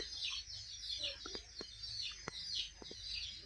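A village hen with newly hatched chicks clucks softly and low while the chicks cheep in a steady high chatter, with light pecking taps, all close and fairly quiet.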